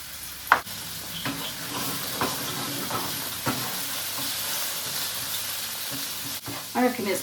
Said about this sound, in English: I am going to need more olive oil, thank goodness I have some. ½ teaspoons of garlic.